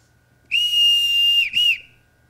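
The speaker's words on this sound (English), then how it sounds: "They've been trained to come only when they hear their whistle." A single sharp whistle blown to call children on a country estate, one long steady tone followed by a short second blast, loud and close in a quiet room with no talking.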